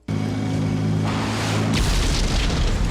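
Loud, continuous booming and rumbling from gunfire and explosions in a war film battle scene, one dense blast-filled stretch with a sharper burst near the middle.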